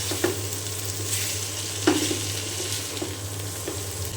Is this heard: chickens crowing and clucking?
no